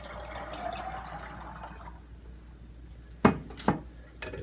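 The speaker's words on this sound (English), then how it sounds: "Cover with 2 cups of spring water." Spring water poured over raw cashews in a mason jar, heard as a soft running pour that fades out, followed by two or three close glassy clinks of the jar.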